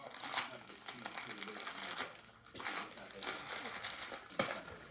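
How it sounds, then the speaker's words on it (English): A puppy tears and crinkles wrapping paper off a present in a busy run of rustling and ripping, while people chatter and cheer in the background. "Open your present. Okay, unwrap that."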